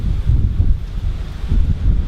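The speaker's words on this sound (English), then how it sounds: "It's just windy and it's rainy." Gusts of Hurricane Irma wind in rain in Miami buffet the microphone, rumbling low and uneven in short surges.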